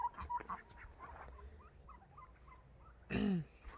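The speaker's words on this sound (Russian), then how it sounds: "Вот, показываем индюков." Turkeys of a white heavy breed at a poultry exhibition give soft scattered calls at first, then one loud, close, honking call near the end.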